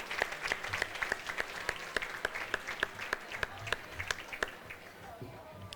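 A crowd applauds steadily at a masquerade gala, dense clapping that carries through and starts to thin toward the end.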